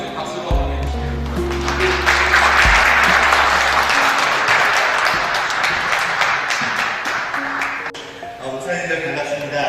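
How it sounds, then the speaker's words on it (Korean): A seminar audience at a Korean church breaks into sustained applause, swelling over several seconds and tapering off, with a low hum under the first few seconds. "박수로 한번 해주세요"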